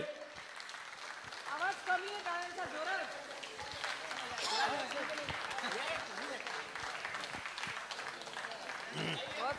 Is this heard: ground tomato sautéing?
no